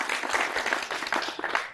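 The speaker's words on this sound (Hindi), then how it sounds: "देवेश के लिए तालियां बनती है। एक बार जोरदार से भाई तालियां।" Village gathering applauding a speaker named Devesh at a rural discussion on natural farming, a lively burst of many hands clapping with uneven rhythm, fairly close and loud.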